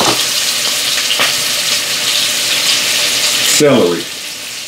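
Chopped onion hits hot butter in a pot for a lamb stew, and a loud, dense sizzle bursts out right away. A short spoken word comes near the end as the frying fades and a light scrape follows.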